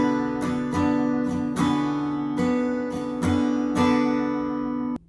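Acoustic guitar strummed in standard tuning without a capo, playing a song: about eight crisp chord strums in a steady rhythm, bright and close, ending with a sudden mute.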